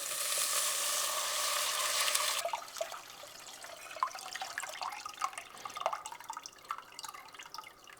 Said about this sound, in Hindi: अब हम इसमें इमली का पानी डालेंगे